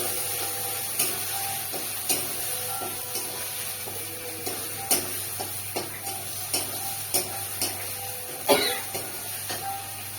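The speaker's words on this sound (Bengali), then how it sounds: "দেখতে থাকুন, মশলাটা আমি কষিয়ে নিই" Spice paste for taro curry is stirred and sautéed in a pan, giving a soft, steady sizzle broken by repeated scraping clicks of a spatula at an irregular rhythm, with no talking.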